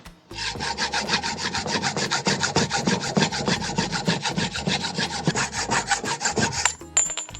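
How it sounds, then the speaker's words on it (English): A hand saw cuts through the steer tube of a Marzocchi Bomber Z2 mountain bike fork held in a cutting guide, a rapid rhythmic back-and-forth rasping of about thirty close, loud strokes that then stops. "use the guide, and begin to cut the steer tube off"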